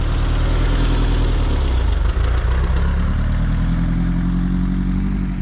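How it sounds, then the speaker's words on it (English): Manual-transmission vehicle in sand at Silver Lake, its engine droning loud and close as it is revved and the clutch is let out, the pitch settling lower partway through, with no voices. "give it some gas, and then slowly let off the clutch."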